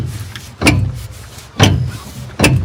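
A locked metal door on an abandoned military ship is tried three times, each attempt a loud, close metallic clank and rattle with quiet gaps between.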